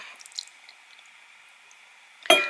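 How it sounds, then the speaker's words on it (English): Water poured onto ground enamel in a dish, a brief wet splash and squish arriving at the end after near silence with faint drips, close and fairly loud. "And then I'm going to pour in a bit more water."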